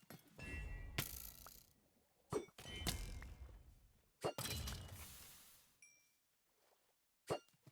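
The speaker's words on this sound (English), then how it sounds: "I can't stop hitting things with this Trident" Trident striking blocks and objects in a singleplayer video game, a series of sharp thunks and clangs in irregular bursts, each followed by a short rumbling decay, fairly faint.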